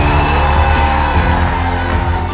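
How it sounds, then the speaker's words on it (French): A convention audience cheers loudly for an announced guest, a dense, steady crowd roar with whoops and shouts close up, filling the space throughout. "Je vous demande un tonnerre d'applaudissements pour Monsieur Laurent Beretta."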